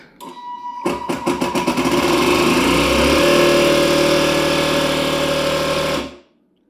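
A pump pressurises the ExeFlash spark plug test stand with air, giving a loud, steady mechanical drone that starts with a quick rhythmic chatter of strokes and then holds an even, sustained whine until it stops abruptly near the end.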